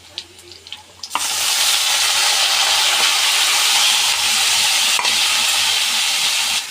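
Duck meat dropped into a hot wok, a sudden loud sizzle and hiss that bursts in after a few soft clinks and then holds steady and strong to the end.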